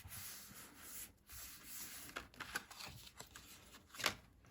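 Paper being folded over for a handmade Christmas card: soft rubbing and creasing rustles at close range, with a sharper crackle near the end, no talk.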